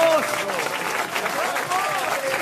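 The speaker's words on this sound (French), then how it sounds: "Tu vois Thierry, quand tu réponds pas souvent, ils applaudissent beaucoup" A studio audience on a radio game show breaks into sustained, loud applause lasting the whole moment, with voices and laughter mixed into the clapping.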